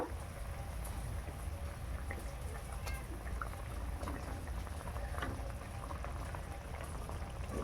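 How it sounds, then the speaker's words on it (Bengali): Fish curry gravy simmering in a pan: a steady, even bubbling hiss that holds at a constant low level throughout, close by, with no talking. "ঝোলটা ফুটতে থাকুক।"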